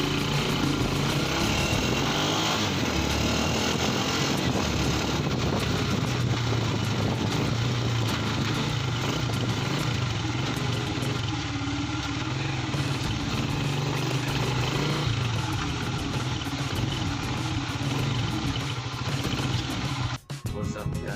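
Motoposh Pinoy 155 motorcycle engine idling steadily and close by for the whole stretch, a continuous low rumble with talk over it and a brief dip near the end.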